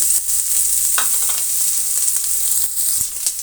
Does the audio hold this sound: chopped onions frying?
yes